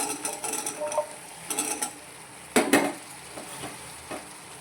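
Spoon stirring boiled chickpeas into a brinjal curry in a pot, a few soft scraping and clinking strokes with faint sizzling between them, close by and without talk.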